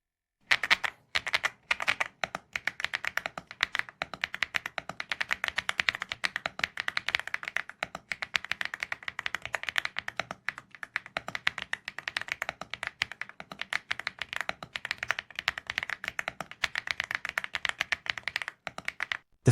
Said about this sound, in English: Let's listen together.